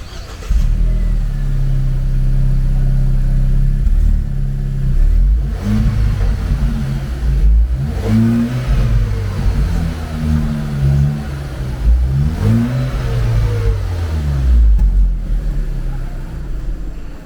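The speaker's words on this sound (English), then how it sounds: "So, can we hear the car? Yes. The exhaust note." A modified Mahindra Thar with a Borla end-can exhaust starts and revs repeatedly, loud and close, its deep engine note rising and falling in several sharp blips over a steady idle.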